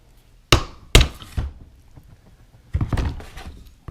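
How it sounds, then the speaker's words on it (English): Metal pin on a Franchi Affinity 3 shotgun carrier latch being tapped in with a punch and hammer: two sharp close strikes, a lighter follow-up knock, then a denser cluster of taps after a pause. "push that pin in the rest of the way. I'll use a punch."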